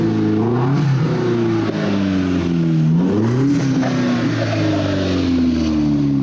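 A Vanderhall Venice three-wheeled roadster revs its engine loudly up close, the pitch sweeping up and down in repeated throttle blips over a steady idle rumble.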